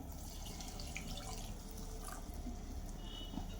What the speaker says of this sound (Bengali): আমি এখন এখানে 2 কাপ লিকুইড দুধ ব্যবহার করব।